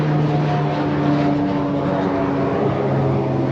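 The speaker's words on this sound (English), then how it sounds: "Oh, we have a jet up there." A jet airplane passes overhead in a flight pattern, a steady, loud broadband engine roar with a low droning hum that holds evenly throughout, with no talking.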